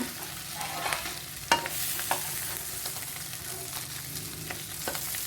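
Shrimp stir-frying in a hot pan for Thai shrimp fried rice, a steady sizzle broken by sharp scraping clacks of a utensil against the pan at irregular intervals.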